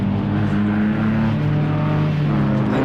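A BMW Compact Cup race car's engine drones steadily and loudly throughout as it passes on the Cadwell Park circuit, a continuous low roar with shifting pitch, no voices.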